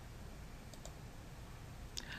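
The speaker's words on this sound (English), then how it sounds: "download the release zip by clicking here" Soft computer mouse clicks, two quick taps followed by another pair a moment later, faint over a steady low background hiss.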